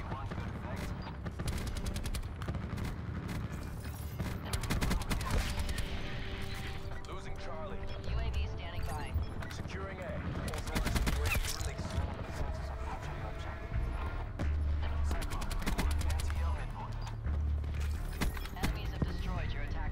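Gunfire in the video game Black Ops 4, rapid bursts and mechanical weapon clatter running throughout under someone talking loudly over the action.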